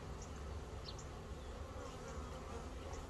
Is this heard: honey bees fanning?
yes